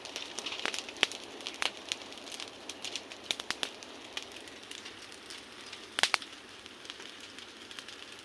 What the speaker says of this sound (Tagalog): Sunog agad yung bukid oh.